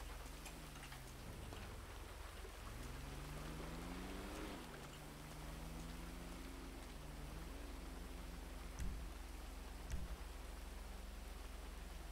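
Heavy rain pours in a video game as a continuous broad hiss over a steady low drone, with wavering tones and a couple of brief thumps later.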